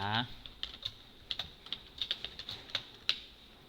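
Light tapping on a computer keyboard, a run of about a dozen quick irregular clicks close by and fairly soft, with a voice briefly heard at the start.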